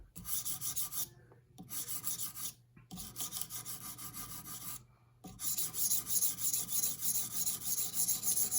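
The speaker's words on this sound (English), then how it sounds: "you can change the amount of pressure on different parts of this stone as it contacts the bevel" A sharpening stone rubs back and forth along the bevel of an S110V steel knife, making a steady rasping scrape in continuous strokes with short pauses between passes.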